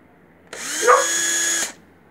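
Refurbished DeWalt DW991 cordless drill fitted with new 2.0 Ah cells, spun up in one burst of about a second: a sharp start, a steady high motor whine, then an abrupt stop, close and loud with no talk.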